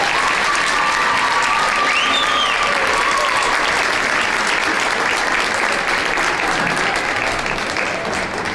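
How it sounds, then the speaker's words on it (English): A high school gym crowd applauds steadily and loudly for students at a boys varsity basketball game, the clapping sustained throughout with a few faint whistles over it. "Can you please give them one more round of applause?"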